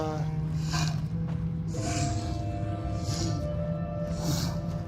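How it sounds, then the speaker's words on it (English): Slow, rhythmic heavy breaths of a creature in the VR game The Midnight Walk, airy inhales and exhales repeating about once a second over a low droning hum. "I mean, it sounds like it's breathing."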